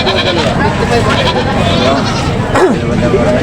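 Goats bleat amid a busy livestock market, several wavering calls rising over a constant crowd babble of voices and people talking nearby.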